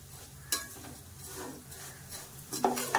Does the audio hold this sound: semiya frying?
yes